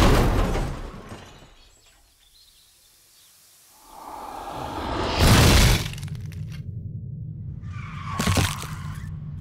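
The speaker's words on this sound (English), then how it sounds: "She doesn't see the brake lights until it's too late. And she plows into a Saab estate." A car crashes into a Saab estate with a sudden loud impact and shattering glass, followed by a second sharp crash and debris, set against quieter ambient sound.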